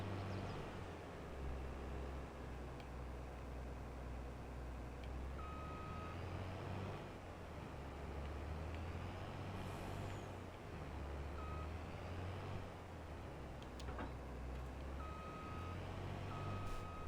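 Truck in Farming Simulator 22 on an Iowa farm, its engine rumbling steadily with repeated reversing beeps sounding in short bursts and an air brake hiss, fairly loud and with no talk.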